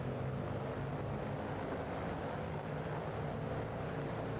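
A World War II tail-dragger plane lands in the video game Arma, its engine a dense, continuous drone that holds steady at moderate loudness throughout with no voices.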